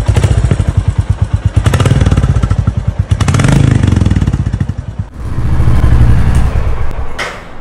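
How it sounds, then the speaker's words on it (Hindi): A 2023 Royal Enfield Bullet 350 single-cylinder engine starts and settles into a loud, steady idle with a deep, rhythmic thumping beat, close to the microphone, with a brief dip midway. "जैसे बाइक स्टार्ट होती है तो कुछ इस तरह की हमें आवाज देखने को मिलती है"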